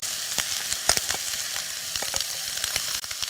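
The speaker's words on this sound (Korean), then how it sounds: "양념장을 볶는 야채에 넣어주고 있습니다." Vegetables and seasoning sauce for Korean spicy squid stir-fry sizzle loudly in a hot pan, with steady frying hiss broken by repeated scraping clicks of a spatula stirring close by, no talk.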